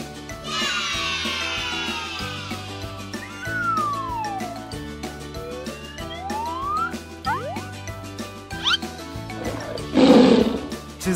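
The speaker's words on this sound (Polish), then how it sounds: "To jest tygrys!" A tiger roars loudly in a single long drawn-out call, with a children's animal-sound game's musical jingle and sliding tones playing around it.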